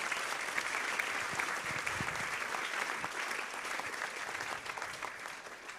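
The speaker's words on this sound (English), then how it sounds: "can we give them all a big round of applause" Sustained applause from the audience at an F1 in Schools Australian National Final awards event, a dense, steady wash of many hands clapping that carries on without pause throughout.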